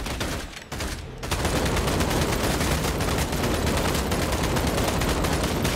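Sustained rapid gunfire in the vampire battle royale game Vampire: The Masquerade - Bloodhunt, a dense unbroken barrage after a brief lull, loud and close with no talking.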